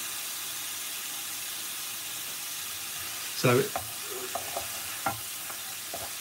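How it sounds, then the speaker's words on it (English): Ginger garlic paste sizzles in a pan while a Madras curry is cooked, a soft, steady frying hiss broken by a few brief stirring clinks and scrapes. "the ginger garlic paste is kind of sizzling, and the sound of the sizzling is reducing now"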